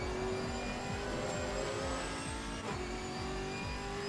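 Race cars in Assetto Corsa Competizione drone with steady, loud engine roar, revs rising and falling through gear shifts, several cars close together with no pauses.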